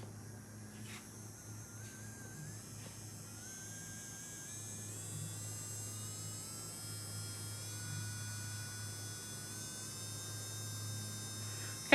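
Engerwall rechargeable nail drill spinning at 20,000 RPM, a faint, steady electric whine with a low hum underneath, running quietly and evenly throughout.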